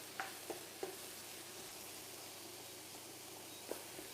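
Frozen corn is stirred in a hot pan, a quiet steady sizzle broken by a few short scraping clicks from the utensil.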